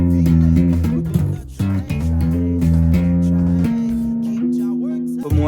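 Bass guitar playing a tritone, with sustained low notes changing every second or so in a loud steady line under a busy bright upper layer, no talking.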